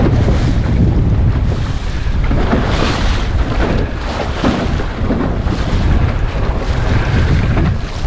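Strong gusty wind roaring over the microphone aboard a small Laguna-Kombi+ sailing dinghy bouncing over waves, a loud continuous rush with surging gusts and water splashing, no talk.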